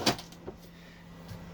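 A drawer is pushed closed on its slide rails during a van conversion build of bench seats, giving a sharp thud at the start, a softer knock midway and a faint clunk near the end over low background hum.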